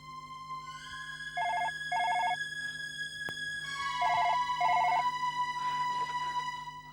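A telephone rings in two paired bursts separated by a pause, over sustained eerie tonal music in a horror drama scene, with no talking.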